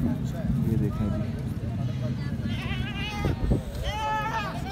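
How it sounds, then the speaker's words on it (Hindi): Goats bleat at a livestock market in Karachi's Malir area, two or three wavering cries rising over constant crowd chatter and nearby voices. "ये वाला लिया बकरा।"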